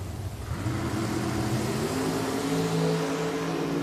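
Dragsters race at Richmond Dragway, their engines a steady mid-pitched roar heard at a moderate distance, rising slightly and holding without any voices.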